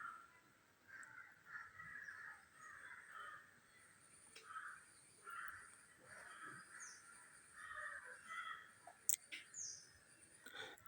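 Crows caw repeatedly from a distance, faint and scattered over several seconds, with a few softer bird chirps among the calls. No one speaks.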